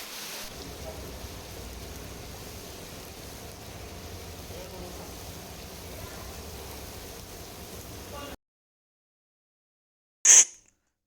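Asafoetida, ginger and chilli paste sizzles in hot oil while being stir-fried, a loud, close, continuous crackling hiss that cuts off abruptly and is followed by a short sharp clink.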